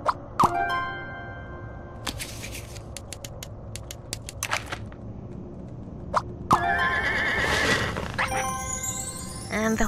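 A horse in the Scribblenauts Unlimited video game gives a brief whinny amid a run of clicky, creaky game effects and plops, with several tonal chimes near the end; no one speaks.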